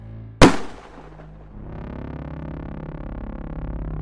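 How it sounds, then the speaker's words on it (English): A single loud, sharp gunshot cracks out, followed by a fading echo and then a steady low hum with a pulsing rhythm. "Suddenly, from inside the room, a gunshot rings out."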